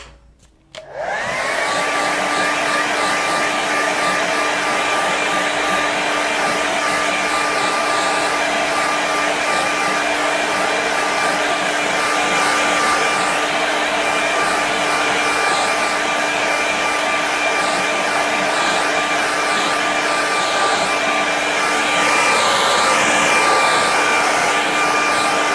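A hair dryer switches on and runs continuously for a long stretch, drying a loose watercolour landscape painting. It is a loud, close, steady whirring roar with a constant whine and no voices.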